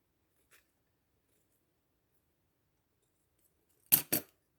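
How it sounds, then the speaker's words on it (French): Scissors snip away excess napkin paper on a decoupage vase: two quick, crisp cuts close together near the end, after a faint click and long silence. "Je vais venir couper ce qui dépasse."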